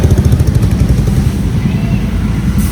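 A vlogger's motorcycle idles or rides nearby, a loud, low, pulsing engine rumble with steady rhythmic thumps filling the whole moment, with no clear speech over it.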